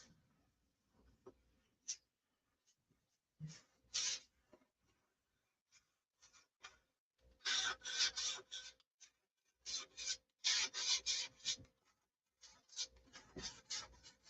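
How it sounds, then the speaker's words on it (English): Hand sanding of a Viper 2 model, with short rasping strokes that come in bursts and grow denser and louder toward the middle, separated by quiet pauses, heard close up. "It's all this sanding that's the hard part."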